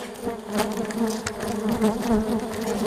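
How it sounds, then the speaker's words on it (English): A swarm of honey bees flies around an open beehive in early spring, a dense, steady buzzing hum close to the microphone throughout with no talking. "You can see the bees are a little bit upset with us. They're flying all around the camera and all around me."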